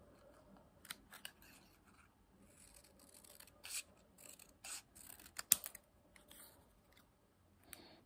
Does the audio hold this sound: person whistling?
no